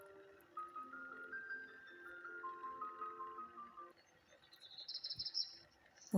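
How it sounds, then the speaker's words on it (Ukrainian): Birds singing in a spring forest: faint whistled and chirping phrases overlap in a quiet, distant setting, rising to quick high trills near the end. "птахи наповнюють його чудовим співом"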